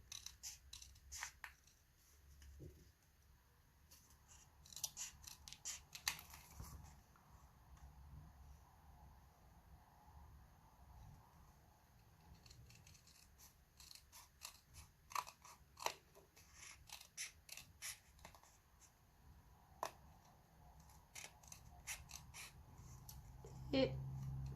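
Scissors snip through paper while a page for a Stamperia vintage album is cut out, giving quiet, irregular crisp cuts in clusters against a soft background.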